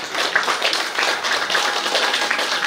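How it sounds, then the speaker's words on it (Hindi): An audience claps steadily at a Shivshakti program in Biratnagar, Nepal, a dense, continuous patter of many hands heard close and fairly loud. "ताली बजाइराख्नुहुन्छ है"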